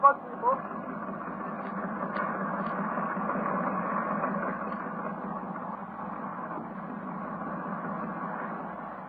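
A boat engine in need of attention drones steadily throughout, a continuous low mechanical rumble with a faint radio-like crackle on top and no clear pauses; an old-time radio drama effect.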